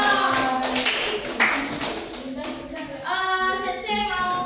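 A class applauding, with bright clapping under cheerful voices and a sustained tonal sound, lasting the full few seconds without pause.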